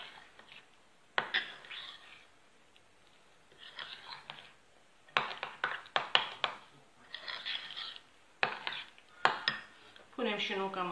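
A spoon stirs sweet cream in a bowl for a caramel-layer walnut cream cake, producing several separate bursts of scraping and clinking against the bowl, with quiet pauses between them.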